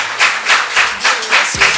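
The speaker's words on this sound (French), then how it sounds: "Sous vos applaudissements, s'il vous plaît." A studio audience gives a short burst of applause for an invited guest on a talk-show magazine program, with loud, rhythmic claps pulsing steadily close by.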